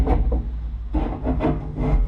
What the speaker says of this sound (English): I think I'm gonna try to scrape what we can.